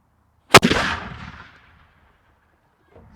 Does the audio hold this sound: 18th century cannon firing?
yes